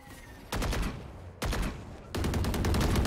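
Sustained bursts of automatic gunfire from a tactical shooter video game, three loud volleys starting abruptly one after another with rapid, even shot rhythm and no talk over them.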